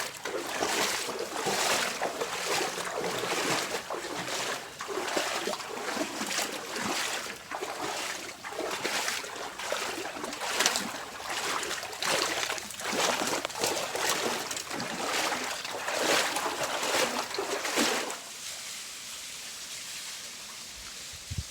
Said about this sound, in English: I'm at the waterfall in 40 Mile Canyon.